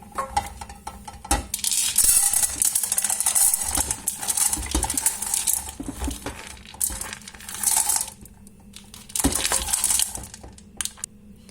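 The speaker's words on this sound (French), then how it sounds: "dans une cocotte minute, on va mettre nos pois cassés" Dried split peas rattle and clink into a metal pressure cooker in repeated pours and scrapes. The bursts are close and hard-edged, with pauses between them and no talking.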